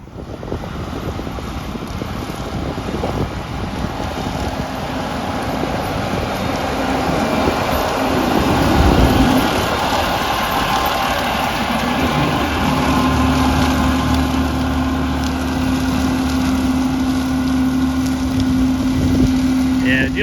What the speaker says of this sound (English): Just in drilling the SFI now with a combi drill.